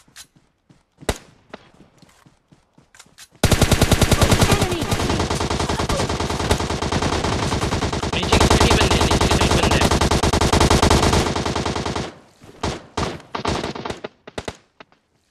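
Rapid automatic gunfire from a battle royale video game bursts in loud, dense volleys for about nine seconds. Scattered single shots and thumps come before and after it.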